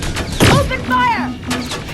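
Gunfire in the video game Terminator Resistance: a couple of sharp, loud bursts mixed with shouted voices and tonal game sounds.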